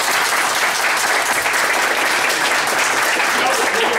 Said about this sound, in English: they're applauding the retort that they know would have been out there